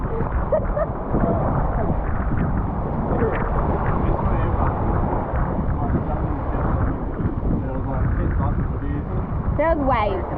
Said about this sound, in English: That was waves.